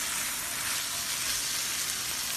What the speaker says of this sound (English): I'm stir frying some vegetables.